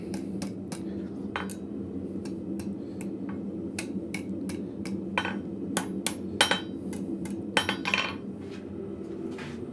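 A blacksmith's hammer strikes hot steel, knocking a square bar down to an octagon. Steady, fairly quiet metallic taps repeat irregularly over a constant low forge hum.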